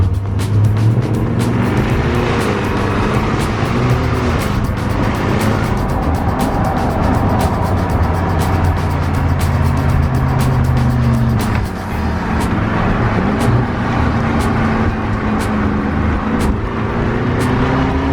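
A Jaguar XJR575 is driven hard, its engine roaring loud and close with continuous revving, rising and falling pitch through gear changes, plus road and tyre noise throughout, no voices.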